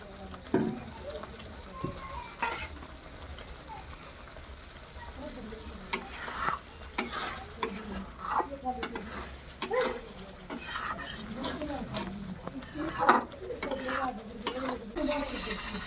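Spices for a dhaba-style rohu fish curry sizzle and scrape in a pan as a utensil stirs them steadily, with a soft frying hiss throughout and occasional louder scrapes.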